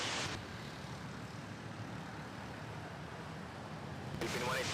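A passenger airplane takes off at Manila Airport, its engine roar a steady, loud broadband rumble that holds throughout, with brief radio-like bursts at the start and end.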